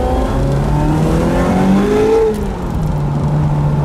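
A Ferrari 355 Berlinetta V8 engine revs up close, climbing in pitch with a growling whine, then drops back to a rough idle. No one speaks.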